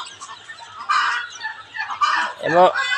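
Soft clucking and chirping from a native hen and her 11-day-old chicks close by on the ground, with a brief louder bird call near the end.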